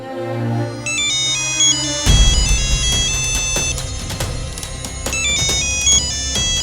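An incoming call sets off a phone ringtone: a bright electronic melody that becomes a fuller, beat-driven tune after about two seconds and plays on loudly to the end.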